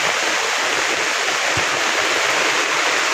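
Heavy rain pours in a steady, loud rush with no break, a dense continuous downpour close by, with one brief low thump partway through.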